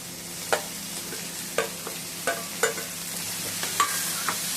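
Onions sizzle steadily in a pan for a green moong masala sundal, with a spoon stirring and scraping through them in sharp, irregular strokes roughly every half second over a constant hiss.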